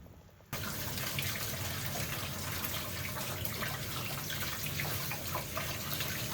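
Water running from a tap over fresh peaches in a sink, a steady close rushing splash that starts abruptly after a brief quiet moment and carries on evenly to the end.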